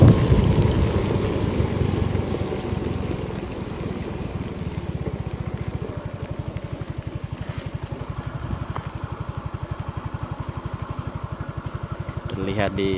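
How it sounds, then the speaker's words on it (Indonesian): Heavy rain pours down steadily outdoors in a hilly area, a dense, continuous hiss with a rhythmic pulsing undertone and faint talk in the background. "saat ini kembali daerah ini diguyur hujan"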